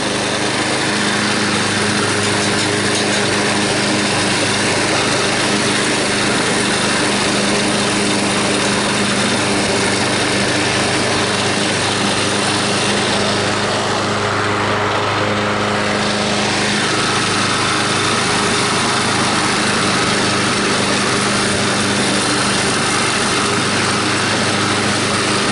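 Lawn mower fitted with a Chinese aftermarket Honda carburetor running with its blades engaged, a loud, steady, close engine drone that never bogs down, continuous throughout with no talking.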